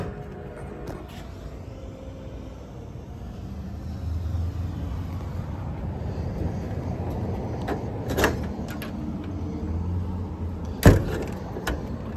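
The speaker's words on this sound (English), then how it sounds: "Power windows, power locks." Power windows on a 2010 Dodge Ram 4500 Cummins service truck, a low motor whir rising in the middle, then a couple of clunks and a sharp knock near the end, no talking.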